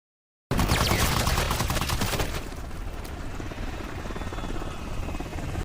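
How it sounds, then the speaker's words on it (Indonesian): A loud helicopter rotor thumps steadily while rapid bursts of gunfire rattle over it, the firing thinning out after the first couple of seconds. "Marsh ditembak oleh helikopter yang ternyata dikendalikan oleh Barney yang masih hidup."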